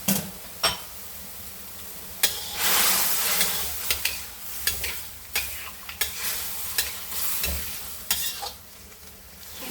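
Food sautéing in a pan in a home kitchen: a continuous close sizzle broken by repeated sharp scrapes and clicks of a utensil stirring against the pan, with no talking.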